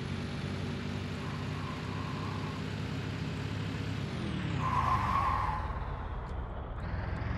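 A truck engine in the Brick Rigs game drones steadily, then drops in pitch as the revs fall and climbs again near the end, close and moderately loud with no talking.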